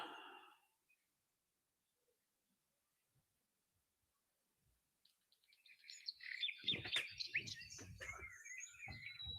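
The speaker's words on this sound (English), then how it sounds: "bird sounds." Recorded birdsong plays as background ambience, entering after a long near-silent stretch with a burst of bright chirps and tweets that then continue steadily, moderately loud, with no speech.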